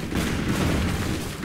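Dense, continuous booming blasts from a robot boss fight in the video game SteamWorld Dig, a loud rumbling barrage of explosions filling the whole moment without talk.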